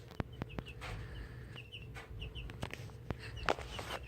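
Chickens clucking close by, with short, irregular clucks and squawks over a steady background murmur and a few sharp knocks, and no voices.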